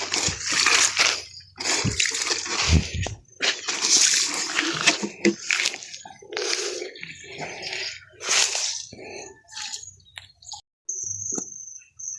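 Water splashes and patters while vegetable plants are watered by hand outdoors during a dry spell. The splashes come in irregular bursts, with birds chirping and faint voices nearby.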